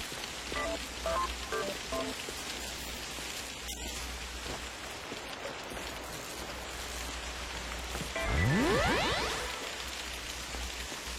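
Steady rain hisses in a shooter video game, a dense, even wash of drops, with a few electronic beeps early on and a sweeping game sound swelling near the end.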